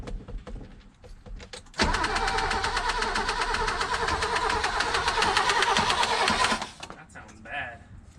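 A 1980s BMW E30 barn-find engine cranks for about five seconds, a steady loud starter churn with a faint knock, and voices come briefly before and after.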